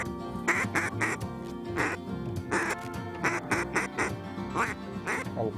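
Several waterfowl quack in loud, repeated bursts of two to four calls, close and overlapping, with brief gaps between volleys and no talk.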